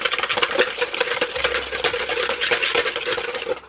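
Waffle batter ingredients whisked together in a bowl, a quick, close, rhythmic scraping and clinking of the whisk that runs without pause, with no talking.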